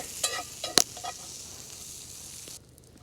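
Potatoes and asparagus sizzling in a pan over a low campfire on a below-freezing winter camping trip, a steady close hiss with a few sharp pops and clicks early on, then fading quieter near the end.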